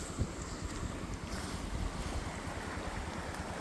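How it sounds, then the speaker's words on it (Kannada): Strongly flowing water beside a roadside stop during rain, a dense continuous rushing roar with wind buffeting the microphone, steady and fairly close with no voices. "ಅದು ನೀರು ಹರಿತಾ ಇದೆ ಸಖತ್ತಾಗಿ"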